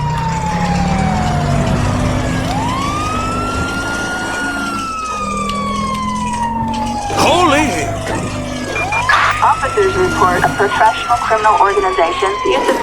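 A wailing police car siren in the video game LSPDFR sweeps up and down continuously, loud and close, with engine rumble beneath and busy clattering noises building toward the end.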